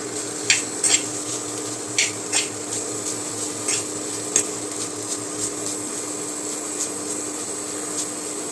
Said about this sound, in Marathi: आता यामध्ये ओलं नारळ किसलेला आपण परतून घेऊया